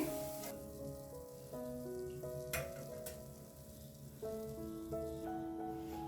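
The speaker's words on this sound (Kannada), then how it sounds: "ಸೊ ಇದನ್ನೂ ಹೈ ಫ್ಲೇಮ್ ಅಲ್ಲಿ ಕರ್ಕೊಳ್ಳೋಣ" Boondi batter poured from an empty bottle and frying in hot oil over a high flame. A faint, steady sizzle runs under prominent background music.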